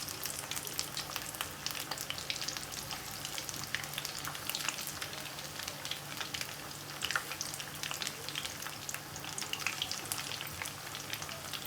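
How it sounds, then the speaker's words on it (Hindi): Chicken pakora deep frying in very hot oil, a steady dense crackling sizzle with fine popping bubbles that holds evenly throughout, close and moderately loud with no voices. "ऑयल इसी तरह गर्म होना चाहिए, क्योंकि ये हाफ डन है।"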